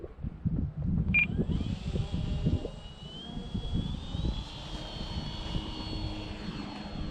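A radio-controlled model airplane's engine whines steadily as it flies, a high buzzing drone that holds and shifts slightly in pitch, after some louder handling noise.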